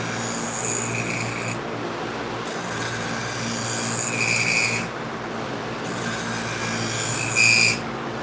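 A veterinary surgical instrument, previously sharpened, is ground to a 10-degree edge, producing a steady broadband rasping hiss with three brief scraping passes that rise and fall over a constant low motor hum.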